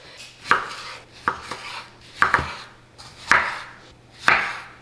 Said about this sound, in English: I'm actually gonna start by quartering my tomatoes.